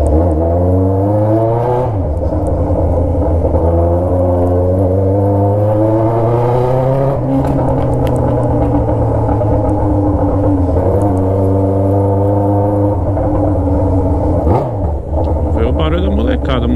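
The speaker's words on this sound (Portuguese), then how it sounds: "nada mais legal do que testar o barulho do escape na quebrada" A Yamaha XJ6 motorcycle with a straight-pipe exhaust revs on a neighborhood street, a loud, close, throaty drone whose pitch rises and falls through several sustained revs.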